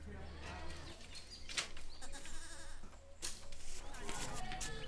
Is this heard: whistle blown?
no